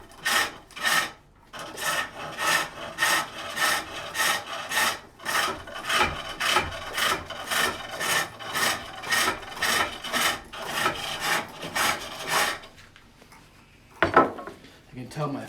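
A reverse grind hook tool cutting wood on a foot-pedal pole lathe while turning a Swedish-style lidded box, heard as a rhythmic series of close rasping scrapes, one per stroke, stopping near the end before a final knock.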